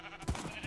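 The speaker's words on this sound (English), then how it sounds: "Lots of sheep." A sheep in the Minecraft video game gives a short, soft bleat, heard alone and fairly faint.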